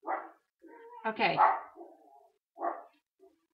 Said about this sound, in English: Oh, you hear that dog?